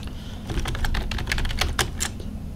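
Quick, uneven typing on a computer keyboard at close range: a steady patter of sharp key clicks with brief pauses, clear and fairly loud, with no talking.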